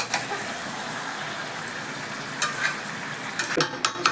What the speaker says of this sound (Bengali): খুব ভালো করে এটা কষিয়ে নেব।